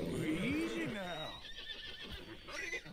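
Horse neighing in Red Dead Redemption 2: one loud, close whinny rising and falling at the start, then fading into quieter hoof movement and someone talking softly.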